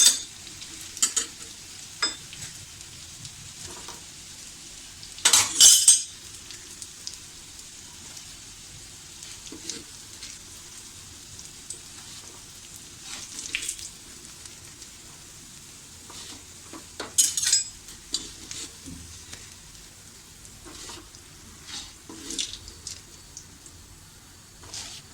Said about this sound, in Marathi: आता मी बाकीचे कटलेट सुद्धा अशाच प्रकारे शॅलो फ्राय करून घेते.